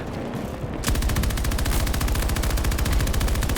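Sustained machine gun fire in the shooter game Battlefield 2042, a loud, fast, unbroken stream of shots that starts abruptly after a short pause and runs to the end.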